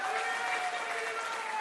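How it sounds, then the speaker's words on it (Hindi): A crowd claps at a political rally stage event, a dense, steady patter of hands that stays loud and even throughout, with a voice faintly over it. "इसके लिए कम से कम आप लोग ताली बजाइए"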